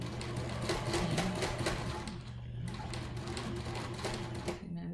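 A home sewing machine labors through many stacked fabric layers while sewing a face mask seam, its motor running steadily with an uneven, strained hum and rapid needle ticking throughout.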